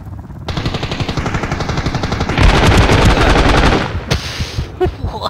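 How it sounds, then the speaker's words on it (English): A PKM machine gun in Ring of Elysium fires long, rapid sustained bursts, loud and close, with a brief slowdown before the rattle resumes. "So I PKM'd the shit out of him."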